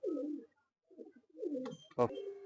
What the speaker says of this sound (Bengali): এই একটা ফুলশিরা গিরিবাস পায়রা